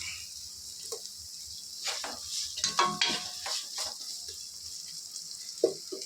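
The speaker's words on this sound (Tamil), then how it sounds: "இப்போ பார்த்தீங்கன்னா தக்காளி போட்டுட்ருக்கேன்" Tomatoes sizzle softly in a pan in a home kitchen while a spoon stirs them, with scattered scraping clinks over a low steady frying hiss and no talking.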